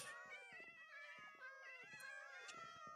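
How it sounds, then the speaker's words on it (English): Several Minecraft cats meow over and over in overlapping, high, harmonic cries, some short and some drawn out, sounding loud and near with no other sounds. "Why is there so many cats here?"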